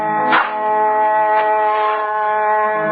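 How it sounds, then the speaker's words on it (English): Grave being dug by shovel on a lonely English hillside in the 17th century, heard as a radio-drama effect: three spaced, gritty scrapes into earth over a steady, low-fidelity hum. "The sound you hear is that of a grave being dug on a hillside in a lonely section of England"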